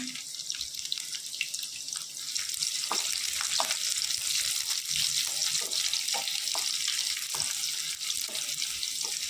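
Cumin seeds and plenty of garlic frying in hot oil for a methi bhaji, a steady close hiss of sizzling with small scattered pops and light stirring, no voices.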